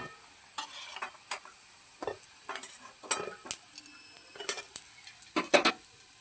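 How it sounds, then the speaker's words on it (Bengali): Thekua sweets fry in a pan with a soft sizzle beneath repeated clinks and scrapes of a utensil stirring and turning them. No one speaks. "এইভাবে আমরা বাকি ঠেকুয়াগুলো ভেজে নেব।"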